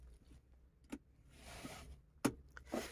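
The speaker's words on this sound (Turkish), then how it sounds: "Şimdi el frenini indiriyorum." A car's handbrake lever being lowered by hand: a few sharp mechanical clicks and a short ratcheting rasp over a low cabin hum, close and quiet.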